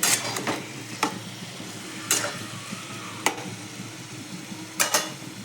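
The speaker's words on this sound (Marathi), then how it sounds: "वांगे बटाटे टाकून घेतलेत. आता मिक्स करूया." Eggplant and potato pieces stirred in a pan with tomato, giving a soft continuous sizzle broken by several sharp clinks of a utensil against the pan, close and alone without talk.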